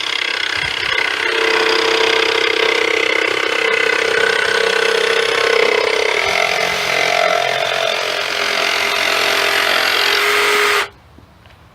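A jigsaw fitted with a Bosch T141HM1 blade cuts through Hardie Backer cement board, giving a loud, steady buzzing roar that holds for about ten seconds and then stops abruptly near the end.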